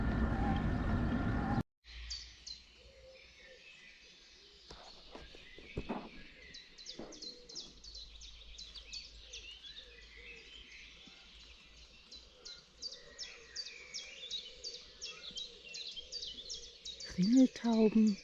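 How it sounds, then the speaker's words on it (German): Wood pigeons, a chiffchaff and a blackbird sing outdoors near a former military training ground close to Landshut in May, scattered chirps and repeated calls at moderate distance over quiet background after a brief loud noise at the start. "Ringeltauben, Zilpzalp, Amsel."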